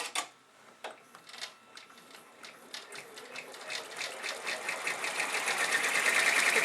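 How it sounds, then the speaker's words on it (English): An embroidery sewing machine stitches a satin border around a flip-flop appliqué, its rapid mechanical ticking starting sparse and quiet, then building into a steady, dense, close whirring run. "It's going to do the satin stitch all the way around."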